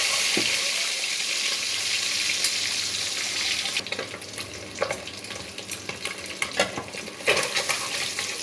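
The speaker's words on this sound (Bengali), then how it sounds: "প্রথমে ডিমটা আমি ভাজি করে নিব।" A peeled boiled egg fries in hot oil in a pot, sticking to the bottom; a steady sizzle turns into louder bursts of crackle and scraping as it is moved around.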